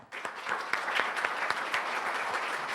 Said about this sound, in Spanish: Creo que vale la pena agradecer a los y las panelistas con un breve aplauso.